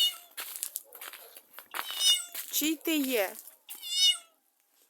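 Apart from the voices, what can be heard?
stray ginger cat meowing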